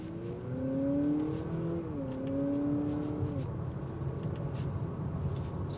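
A 2025 Honda Accord Sport L Hybrid accelerating hard: a smooth, rising powertrain whine climbs steadily in pitch over a few seconds, then settles into a steady road hum.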